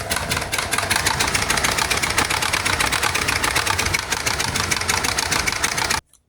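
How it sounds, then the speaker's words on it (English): A farm generator runs steadily at a mid-pitched engine drone with a rough knocking texture, loud and close for about six seconds before cutting off abruptly into silence. "we got our generator over here. See if we can turn it on."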